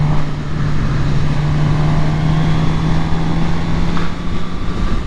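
Steady, loud engine drone from a Suzuki GSX-R750 motorcycle ridden through English countryside in winter, a constant hum with rushing wind noise and no talking.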